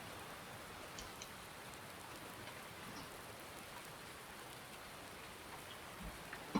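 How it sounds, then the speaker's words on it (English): Steady, even rain pours in Farming Simulator 19 on the Oakfield farm map with seasons, a dense continuous hiss of drops on surfaces with no talk over it. "there's been an incredible amount of rain"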